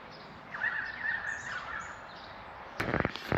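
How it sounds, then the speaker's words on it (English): Birds call near the water at sunset in Winchelsea, Victoria, Australia, with a drawn-out harsh call early and then a burst of sharper, louder calls near the end, all over a faint background hush. "What a beautiful sound those birds make."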